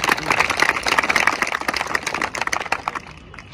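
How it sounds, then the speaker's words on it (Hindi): A crowd claps loudly for a father at a Delhi Police final selection gathering, with dense, rapid clapping that thins out and fades toward the end. "एक बार पापा जी के लिए जोरदार तालियां"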